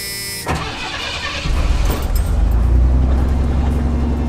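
An old Ford F-150 pickup truck engine cranks and catches, then settles into a steady, loud, close rumbling idle with a slight buzz, with no talking.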